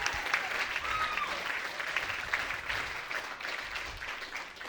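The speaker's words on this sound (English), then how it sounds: "I'm going to give you a round of applause." An audience at a comedy show breaks into a round of applause, steady and fairly dense clapping heard somewhat at a distance, continuing throughout without talk.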